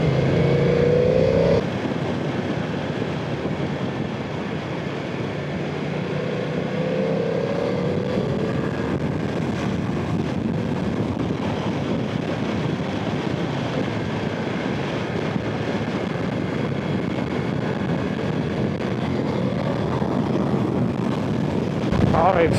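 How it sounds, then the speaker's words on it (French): BMW F900 XR motorcycle engine while riding, a continuous mechanical drone with wind rush, steady and close throughout, with a slight rise near the start and the end. "elle fait un bruit mécanique un peu bizarre, on dirait qu'il y a des... Enfin je sais pas, on dirait qu'on entend un peu le travail du moteur"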